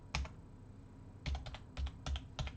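Keys on a computer keyboard clack in short bursts, a single tap followed by a quick cluster of several close, crisp strokes in a quiet room.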